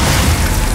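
In the Hogwarts Legacy video game, the Glacius spell is cast with a short, loud, heavy blast, a dense rumbling burst that fills the moment.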